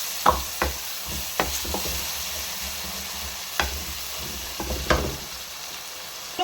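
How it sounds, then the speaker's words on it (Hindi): Green chili and ginger-garlic paste hit a hot pan and sizzle with a soft, continuous hiss, broken by scattered clicks and scrapes of stirring. "ये सब्ज मिर्च और अदरक लहसुन का पेस्ट डालेंगे।"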